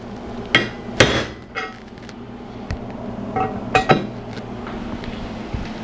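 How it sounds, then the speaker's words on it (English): A hammer whacks a bolt set into plywood to mark a hole for a cast aluminum mailbox, several sharp, close metallic strikes at irregular intervals over a quiet background. "bolt in there and whack it with a hammer to locate it"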